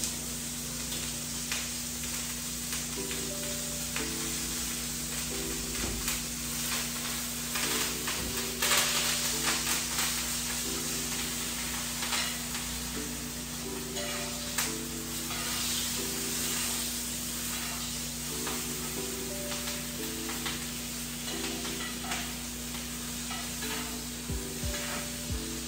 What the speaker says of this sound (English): I'm gonna be basting for a little bit here.